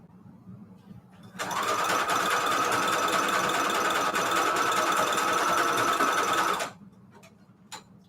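A sewing machine stitches lace trim onto fabric, its needle whirring in a loud, steady, even drone for about five seconds before stopping abruptly, with quiet room sound on either side.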